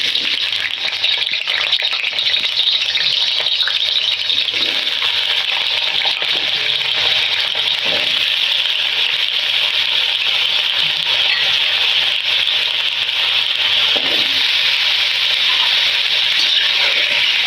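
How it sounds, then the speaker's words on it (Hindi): Potatoes frying in hot ghee in a karahi, a steady loud hiss and sizzle continuing throughout with faint occasional stirring clicks and no talking. "आलूओं को हम फ्राई करेंगे अच्छी तरह से, तकरीबन 3 से 4 मिनट तक"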